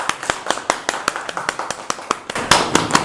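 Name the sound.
applause for a child after surgery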